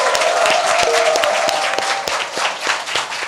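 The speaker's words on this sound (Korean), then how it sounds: "여러분의 힘찬 박수와 환호와 함께 시작하겠습니다" Studio audience applause and cheering open a Korean current-affairs talk show, a dense, steady wash of clapping with scattered sharp claps and a faint sustained tone running through it.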